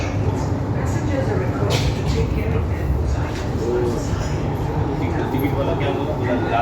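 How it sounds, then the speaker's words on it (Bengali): Steady low rumble of an air-conditioned Delhi Metro train running, with a constant roar and rattle close by, and voices talking faintly underneath. "এটা মেট্রো। এখানকার মেট্রো এরকমভাবেই চলে।"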